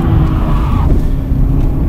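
A BMW M3 engine roars loudly and steadily while drifting, a deep throaty drone with slight shifts in pitch as it works hard.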